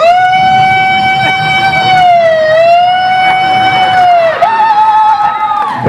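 A voice imitates a police car siren, one long sustained wail rising and falling in pitch, very loud and close, with a crowd audible faintly behind it.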